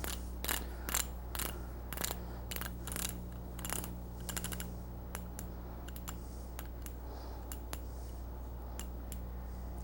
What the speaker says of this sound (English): Torque wrench, 5/16, 9 to 12 pounds